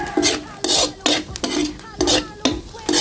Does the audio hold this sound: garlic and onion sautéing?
yes